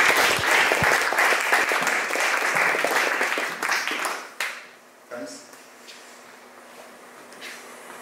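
An audience at a Ruby Meditation tech meetup applauds loudly for about four seconds with dense clapping, then it breaks off abruptly, leaving a quiet room with low hum and a short faint stir.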